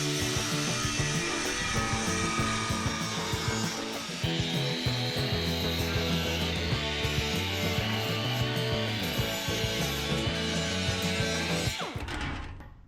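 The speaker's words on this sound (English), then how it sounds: "So we'll trim that right about there, maybe even do a little round over." A power tool grinds and trims the end of a custom metal radiator cover panel, rounding it over with a loud, steady whining drone that runs unbroken for about twelve seconds before stopping.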